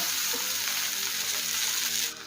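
Okra and potatoes fry in a pan for bhindi aloo bhaja, giving a steady, dense sizzle with light stirring that cuts off abruptly just before the end.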